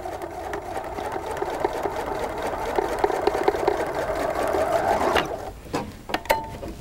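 A sewing machine chain-sews log cabin quilt fabric in a fast, even mechanical whir that runs for about five seconds, then stops and gives way to a few handling clicks and rustles.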